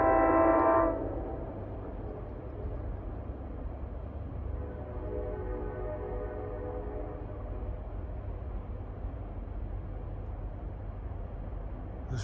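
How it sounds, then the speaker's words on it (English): A distant train on the NJ Transit main line near Port Jervis, rounding a curve without stopping, with a brief horn at the start and then a steady low rumble of rolling cars continuing. "I can hear a train arriving on the main line down the street."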